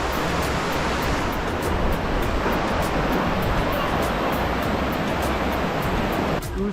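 A mountain river in Kuhrang rushes past in a loud, steady broadband roar of flowing water, close and constant, with no pauses.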